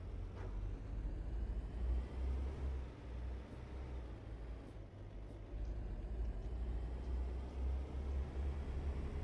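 A quiet, low engine rumble drones steadily throughout, like a truck idling and pulling along, from American Truck Simulator, with no voices.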